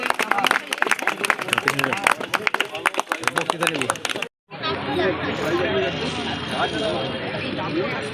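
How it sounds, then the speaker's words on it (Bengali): Applause for runners at a college Run event for National Youth Day: a few seconds of dense, close hand clapping, a brief gap, then a broad crowd babble and cheering. "করতালির মধ্য দিয়ে প্রতিযোগীদের উৎসাহিত করবেন"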